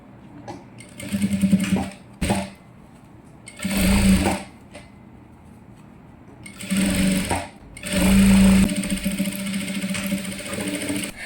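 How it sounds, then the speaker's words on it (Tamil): A sewing machine joins the lining to the front of a silk pavadai blouse for an 8 to 10 year old girl, running in four loud bursts of about one to two seconds each, with quieter pauses between them. "இப்போ வந்து நான் இதை சட்டையோட ஜாயின் பண்ணிக்கிறேன் முன்பக்கத்தோட"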